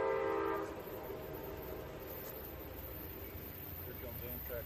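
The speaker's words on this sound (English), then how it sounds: "Here comes Amtrak, almost a half hour late." An Amtrak passenger train arrives at Thurmond with a loud horn blast at the start, then a steady rumble of rolling wheels and rail cars close by.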